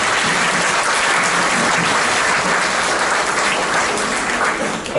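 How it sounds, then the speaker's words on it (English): Sustained audience applause in a hall at a bicentenary celebration programme, thick continuous clapping from a large crowd, loud and even throughout with no voices over it. "Shall we give him a round of applause?"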